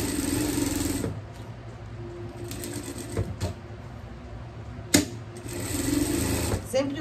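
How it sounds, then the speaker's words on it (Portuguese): Sewing machine stitching a seam around the fabric of a small pet dress, a steady close mechanical whir in long runs with brief stops, with someone speaking Portuguese over it. "E a gente vai passar uma costura aqui ao redor."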